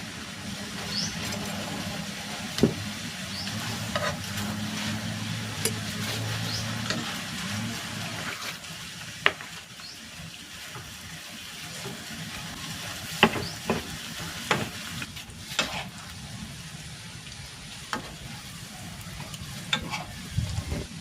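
Milkfish sizzles and bubbles steadily in a pan of coconut milk with bird's eye chili and salted egg, with occasional sharper clicks of stirring over a continuous frying hiss.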